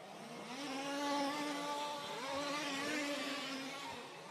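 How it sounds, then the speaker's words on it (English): An RC race car engine whines loudly and continuously during a race, its pitch rising and falling as it passes and sounding slightly uneven. "Stu Wood's engine just sounds a bit off. Sounds a bit weird."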